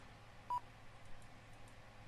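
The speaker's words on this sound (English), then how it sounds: "That beeping means it's completed." A short completion beep from the Prepar3D flight simulator sounds once near the start, a single clear electronic tone over a quiet low hum, with no talk.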